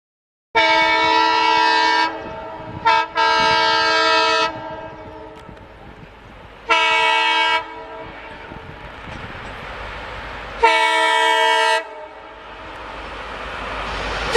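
A modified toy Indian passenger train gives several loud, sustained horn blasts in separate bursts, with quieter running noise and mechanical clatter in the gaps between them.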